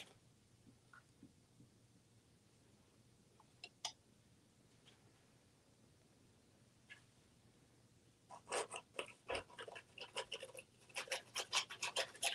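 Pink paint rubbed over turquoise on a canvas or watercolour sheet: a quiet first stretch with a few isolated ticks, then a dense run of close, dry scratching and rubbing strokes building up toward the end.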